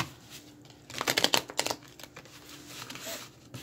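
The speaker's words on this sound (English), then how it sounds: "I'm going to record me shuffling and laying out the cards." Tarot cards are shuffled and laid out, giving a cluster of quick riffling and slapping card sounds in the middle, with soft paper rustles before and after, close and fairly quiet.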